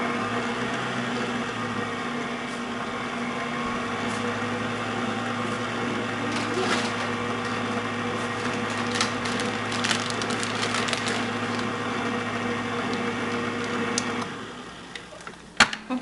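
An electric mixer whirs steadily while baking soda and salt are worked into white chocolate chip and pecan cookie dough, a constant motor hum with scraping rattles from the bowl, winding down near the end.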